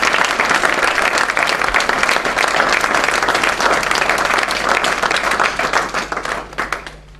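A congregation in church breaks into loud, sustained applause, dense clapping filling the room for several seconds before thinning out and fading into a few scattered claps at the end.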